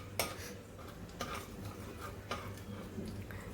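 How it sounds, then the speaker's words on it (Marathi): Butter and oil being stirred together in a pan, with a spoon clinking against the metal several times at uneven intervals over a soft sizzle, fairly quiet and close. "बटर आणि तेल मी थोडं मिक्स करून घेणार आहे"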